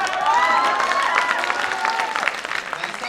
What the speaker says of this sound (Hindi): आप खड़े हो के तालियां बजा रहे